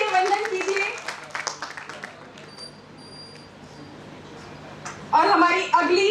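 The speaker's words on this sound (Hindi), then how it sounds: "आप सभी की तालियों की गड़गड़ाहट रुकनी नहीं चाहिए" Audience applause welcomes a guest at a Hindi literature festival, swelling up loud and dense near the end after a stretch of a host's voice and a quieter murmuring hall.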